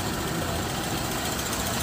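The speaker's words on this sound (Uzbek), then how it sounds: "Mashina yurib turibdi, gazi bor, luks konditsioner." Daewoo Matiz car engine idling with a steady, even mid-to-low hum, heard close and continuous without any talk.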